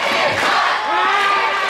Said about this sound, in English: although this crowd really firing up Santana